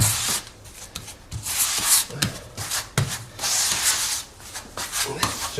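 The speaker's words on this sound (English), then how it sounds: "Just let the squeegee do the work, backwards and forwards like that." Squeegee working tile grout into the joints, repeated rough scraping and rubbing strokes back and forth in an uneven rhythm, close and fairly loud with no talk.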